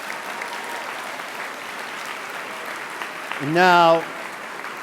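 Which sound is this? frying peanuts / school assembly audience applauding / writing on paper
school assembly audience applauding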